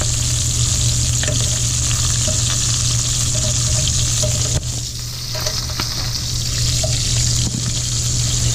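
Sausage and shrimp fry in a Cuisinart skillet for paella, a loud, steady sizzle close by that runs the whole time. Faint clicks of utensils and a brief dip in the crackle break it up, and nobody speaks.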